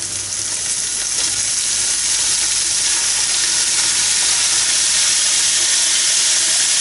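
Ground meat fries in very hot oil for lasagne, a loud, steady, close sizzle and hiss that runs without a break and carries no voices.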